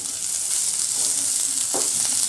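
Neem leaves and mixed vegetables fry in a pan, Bengali style, with a steady close sizzle and a brief scrape of stirring near the end.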